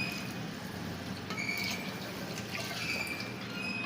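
Cooking water from boiled mutton pouring steadily into a pot, a soft continuous splashing with faint drips, fairly quiet and close.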